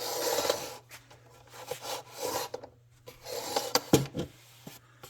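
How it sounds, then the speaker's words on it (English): Rhythmic rasping strokes of sandpaper leveling guitar fret wire, close up, in uneven back-and-forth bursts with short pauses between them. "I'm just gonna start sanding on them a little bit"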